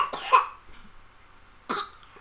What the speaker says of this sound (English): She has a little bit of a cough right now